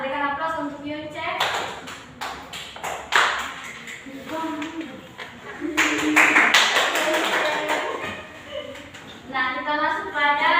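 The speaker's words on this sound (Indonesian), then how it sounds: "Berikan aplaus untuk Yunce." A classroom applauds a student during a lesson on the human respiratory system: scattered hand claps and taps build and continue for several seconds, with a teacher's voice under them at the start and end.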